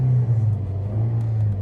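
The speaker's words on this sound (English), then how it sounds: "revvy engine. It does like to go, this engine does." A 2015 Toyota Yaris 1.3 VVT engine hums with a steady low drone, rising slightly as it revs, close and fairly loud with no talking.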